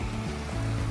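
A creek flows along a coastal forest trail, a steady, close rush of water that fills the moment without pause and with no voices.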